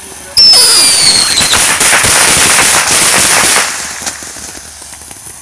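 Firecrackers popping outdoors in a fast, loud crackling string of sharp bangs that starts abruptly, thins out and fades toward the end, with shouted voices mixed in.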